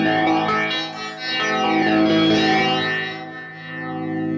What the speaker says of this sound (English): it's giving this beautiful kind of flanging sweep